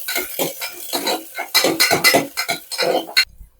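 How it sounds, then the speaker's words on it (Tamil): Small sambar onions being sautéed in a pan for drumstick-leaf soup, heard as repeated close spoon-on-metal scrapes and clinks in bursts of stirring, with a faint sizzle beneath and no talking. "இது லைட்டாக அப்படி ஒரு வதக்கு வதக்கி விட்டுறலாம்"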